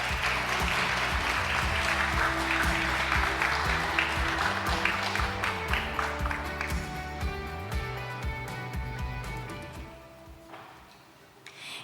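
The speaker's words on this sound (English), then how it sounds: "Please give a big round of applause." Audience applause at a youth climate town hall meeting in Eumseong, clapping sustained over background music, then gradually thinning and fading toward the end.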